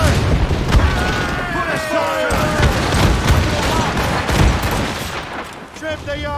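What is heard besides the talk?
ship cannons firing, from video game Assassin's Creed Rogue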